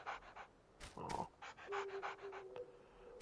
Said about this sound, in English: Poor little dog's all wasted out.